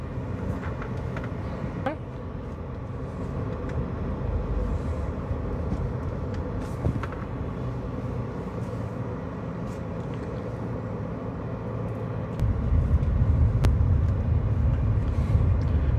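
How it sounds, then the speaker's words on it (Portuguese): Busy traffic fills Rua Getúlio Vargas in the historic centre of Campina Grande, a continuous rumble of passing cars and engines with scattered clatter, swelling louder toward the end. "Para vocês verem aí como é lotado de carros."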